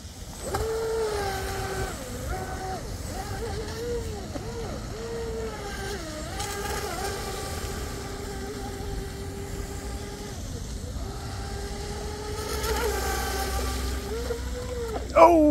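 An 18-inch Proboat Recoil 2 self-righting deep-V RC boat takes off on water. Its electric motor whines loudly and keeps rising and falling in pitch as it surges, ending with a brief bump.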